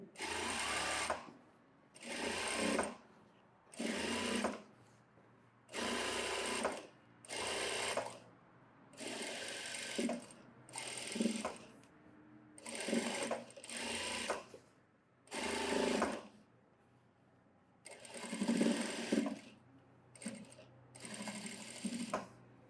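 A sewing machine stitches a pleated synthetic-material blouse in repeated bursts of steady whirring, each run lasting about a second or two and separated by short pauses, clear and close throughout.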